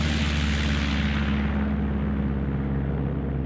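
A Cessna 172 propeller plane in Microsoft Flight Simulator 2024 roars past close and loud, a steady droning engine hum with broadband rush that fades slightly at the end.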